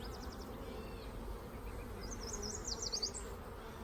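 Honey bees buzz steadily on a hive frame of emerging brood during a beekeeping inspection, a dense continuous hum with individual bees whining closer by, moderately faint.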